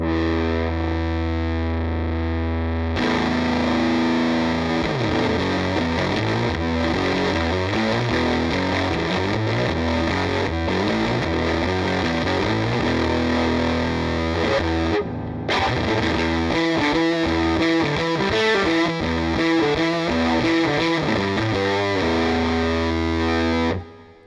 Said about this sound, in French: il y a un switch de boost qui en fait n'est pas un boost mais transforme plutôt la distorsion en grosse fuzz bien